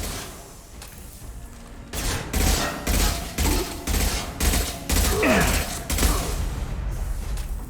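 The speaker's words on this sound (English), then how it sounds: "Firing an impact shot!" Mass Effect 2 combat has repeated heavy gunfire and impact-shot blasts going off in a dense, rapid series of loud booming bursts for several seconds. Battle noise runs underneath, and a voice may be faintly heard.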